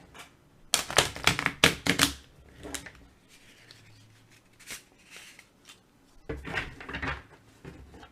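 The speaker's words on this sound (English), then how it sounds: "you've never seen a card shuffle quite like this" A deck of playing cards riffled in a fast burst of crisp flutters and snaps, followed by softer handling clicks, a quieter lull, then another flurry of card noise near the end.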